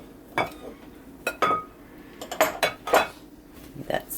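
Spoon scraping and clinking against a bowl while mixing M&M cookie dough, with several irregular close knocks and scrapes spread over a few seconds.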